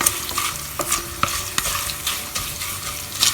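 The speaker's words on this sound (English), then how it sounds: "Just keep stirring them for 30 to 40 seconds" Dry masala spices stirred in a pan over a very low flame: steady scraping and rustling with a soft sizzle underneath, punctuated by sharper clicks of the spoon against the pan at irregular intervals, close and alone.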